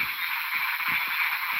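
A dense chorus of frogs croaking over steady rainfall outdoors, with repeated short croaks in a loose rhythm beneath a constant hiss of rain.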